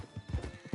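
A horse in the video game Red Dead Online clip-clops with quick, close hoofbeats, and a short whinny mixes in during the brief burst.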